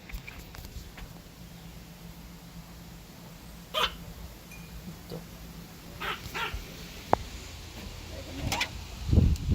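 A dog barks outdoors in a few short, scattered yelps at moderate distance over a quiet, steady background.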